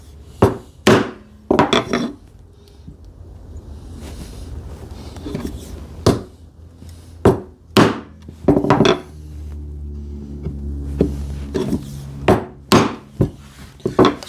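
Sharp mallet strikes drive a chisel into wood cutting a quarter-inch-deep dado by hand, the blows coming in irregular clusters, close and crisp, with scraping between them.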